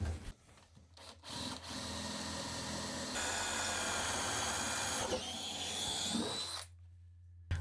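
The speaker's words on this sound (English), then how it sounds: "So first, I'm going to drill a bigger hole with a Forstner bit to accept the bolt" A Forstner bit bores a large hole into a wooden workbench, a sustained whining power-drill drone that starts after a few brief knocks, holds steady for several seconds, then cuts off abruptly.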